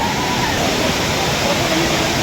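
Tirathgarh waterfall roars as a loud, steady rush of falling water, a dense continuous hiss close by with no breaks.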